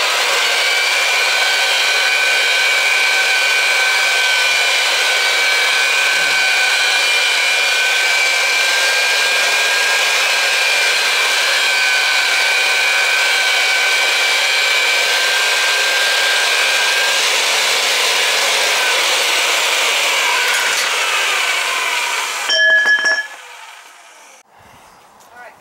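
A power pipe machine cuts, reams and threads a pipe for an oil tank replacement in a cellar, a steady loud whirring drone with a tonal whine that runs continuously, then stops near the end.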